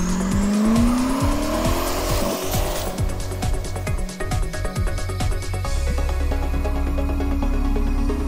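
A customized Corvette drives hard with a loud engine roar and long tire squeals during a spin, the pitch sliding as the car slides, close and continuous.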